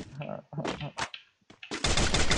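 Rapid automatic gunfire in the shooter game Free Fire, loud and close, bursting out after brief spoken exclamations and continuing as a dense rattling stream.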